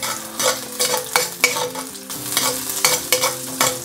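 Ginger and garlic stir-frying in a hot wok for a beef stir fry, a loud close sizzle with repeated scraping stirs in an uneven rhythm and no voices.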